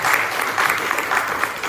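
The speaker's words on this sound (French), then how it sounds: "On peut les applaudir s'il vous plaît." Brief, lively audience applause at a tourism talk, with many hands clapping steadily and close at a moderate level, alone without talk.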